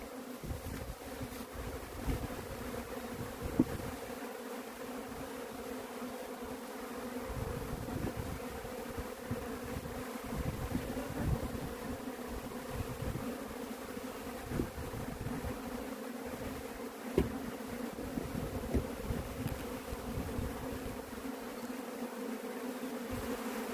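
A swarm of honey bees buzzing near a hive, a dense continuous drone of many wings filling the whole stretch with shifting intensity and a couple of sharp knocks, no talking.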